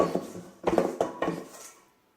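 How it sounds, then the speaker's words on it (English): Metal dough scraper turning sticky naan dough out onto a bench: a few short scraping and knocking clacks in quick succession, close and fairly loud, then fading to quiet. "I'm just going to use my scraper. Turn that out onto the bench like that."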